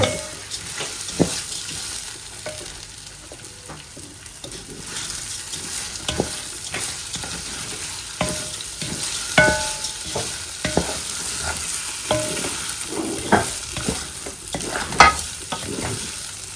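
Khichuri being stirred in a pot on a home stove, a steady scraping and sizzling with repeated sharp clicks of the spoon against the pot, close and alone.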